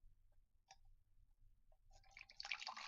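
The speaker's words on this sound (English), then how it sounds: "I present to you the pouring of the tea." Tea poured from a pot into a cup, starting with a few faint drips and then swelling into a close, bright splashing stream over the last second.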